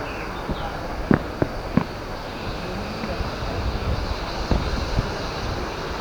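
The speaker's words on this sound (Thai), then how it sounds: "น้ำตกเหวสุวรรณนะครับ เป็นน้ำตกที่มีความสวยงามของอุทยานแห่งชาติเขาใหญ่นะครับ" Heo Suwat waterfall in Khao Yai National Park roars as a steady, broadband rush of falling water heard from a distance, with a few brief knocks and clicks near the start.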